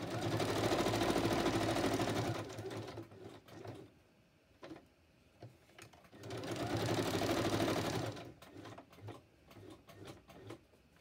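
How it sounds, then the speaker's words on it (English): A sewing machine runs in two bursts of straight stitching through paper, each a steady, close mechanical whir lasting about three seconds, with quiet handling sounds between them. "And now I could zigzag or I could straight stitch. I think I'll straight stitch."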